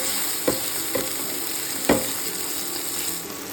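Chopped tomato fries in hot oil in a wok, giving a steady close sizzle broken by three soft stirring scrapes.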